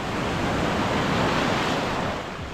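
Strong ocean waves surge and crash continuously at Kuskus during a fishing trip, a loud, dense roar of surf with wind buffeting the microphone and no talk.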